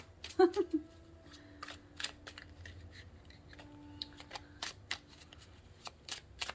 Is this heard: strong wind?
no